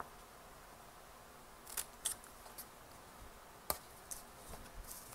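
Scissors cut through a piece of fabric for a boutique-style tissue box cover, giving a few quiet, crisp snips spaced irregularly over a few seconds in a calm room.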